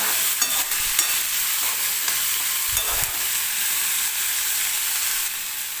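Finely chopped tomato fries in a pan, a continuous close sizzle with a few soft knocks and scrapes from stirring; no one speaks.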